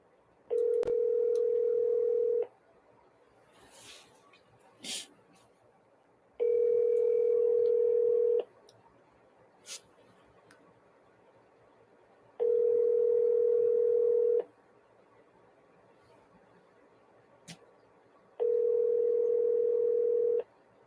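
An outgoing phone call rings out, with four evenly spaced steady ringback tones about two seconds long and separated by gaps of about four seconds, clear and alone on the line.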